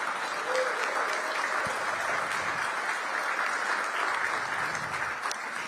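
An audience at a mayoral union agreement signing applauds city public works employees, with steady, sustained clapping from a sizable crowd.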